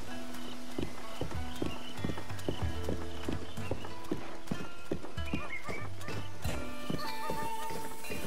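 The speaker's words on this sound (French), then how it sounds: "Un très bon cheval." A horse in the video game The Legend of Zelda: Breath of the Wild trots with steady, rhythmic clip-clopping hooves and gives an occasional whinny, all over continuous game music.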